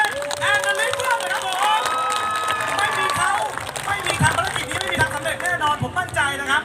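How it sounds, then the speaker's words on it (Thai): An outdoor crowd at a public support event in Nakhon Phanom province claps and cheers for a team, a dense wash of applause building under an amplified voice and sustained tones. "ขอเสียงปรบมือกับทีมวันเบ"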